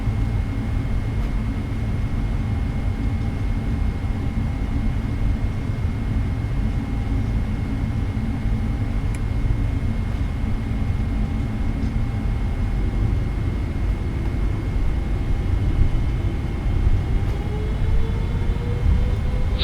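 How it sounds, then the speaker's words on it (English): Boeing 777 engines spool up to takeoff thrust in a flight-simulator cockpit. A steady, loud turbine roar and whine holds throughout, and a rising tone appears near the end, with no talking. "Takeoff thrust set."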